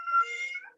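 A single short cat meow, clear and close, rising then falling in pitch.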